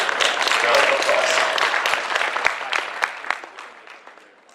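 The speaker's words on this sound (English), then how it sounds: "Round of applause." Conference audience applauds a Rails talk speaker, a dense burst of many hands clapping that starts strong and gradually thins out and fades near the end.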